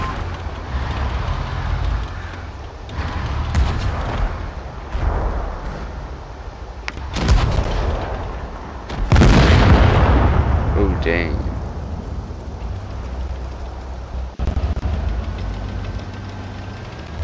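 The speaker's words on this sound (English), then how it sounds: "Oh, he's shooting someone over there." Tank cannon fire in World of Tanks Blitz: a few heavy booms and one big blast with rumbling decay, over a constant engine drone, with a person talking intermittently.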